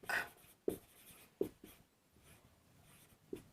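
A teacher writes on a classroom board during a Hindi-medium grammar lesson, giving a few sharp taps and short scratchy strokes at an irregular pace. Aside from these marks the room is fairly quiet.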